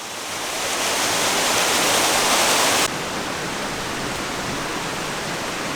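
A tall waterfall roars as a steady, dense wash of loud falling water, swelling in the first seconds and then holding constant with a slight drop in level partway through, with no voices.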